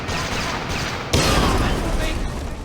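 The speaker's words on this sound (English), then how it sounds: "Picking up gunfire." Gunfire in the Splinter Cell Conviction video game, a dense burst of shots that suddenly grows louder and harsher partway through over a noisy combat backdrop.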